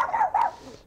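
A dog gives two quick, sharp barks close by, the second fading into a brief softer tail.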